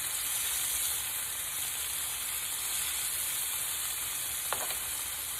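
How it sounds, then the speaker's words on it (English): Fish fries in a pan on a stove turned down a little, giving a steady, close sizzling hiss throughout with one brief sharper pop near the end; no one speaks. "Doesn't take long for fish to cook."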